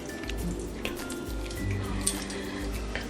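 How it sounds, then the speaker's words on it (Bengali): Water drains from freshly curdled homemade paneer set in lemon juice, a soft continuous trickle and drip with occasional small splashes, steady and close, plus a low rumbling hum underneath. "জলটা ঝরিয়ে নেব।"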